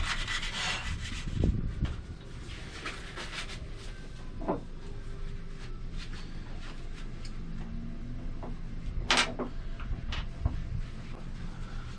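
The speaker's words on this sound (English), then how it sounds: "having sanded everything down as I needed to" A wooden surface on an ocean rowboat is sanded by hand, a steady close rubbing rasp with a few sharp knocks and scrapes along the way.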